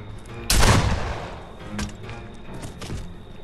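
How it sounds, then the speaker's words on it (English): Rifle gunshot in Friday the 13th: The Game, a single loud sharp blast followed by a decaying rumble and a few fainter thumps, with light background noise and no talk over it. "I shot him."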